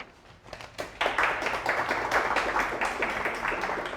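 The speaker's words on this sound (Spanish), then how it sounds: "Señores, para todos ellos un fuerte aplauso." An assembly audience applauds the participants awarded motorcycle contracts, the clapping starting sparsely and then swelling into a dense, even round that lasts to the end.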